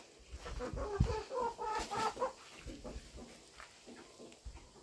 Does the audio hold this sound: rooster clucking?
yes